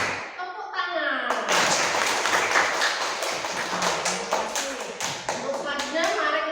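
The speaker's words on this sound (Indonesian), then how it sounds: "kita tepuk tangan dulu ya" A class of children claps hands together in short rhythmic bursts, a teacher speaking before and around the claps.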